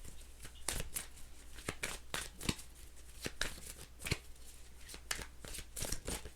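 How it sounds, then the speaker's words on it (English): Tarot cards are shuffled by hand nearby, giving crisp, quiet riffling slaps and brushing flicks in an uneven, repeating rhythm with no talk over them. "I gotta shuffle some more."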